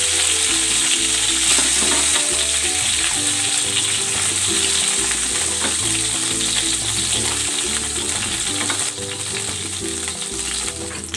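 Chicken pieces fry for adobo in a pan, giving a loud, steady sizzle that runs unbroken the whole time, with a faint tonal background underneath and no talking.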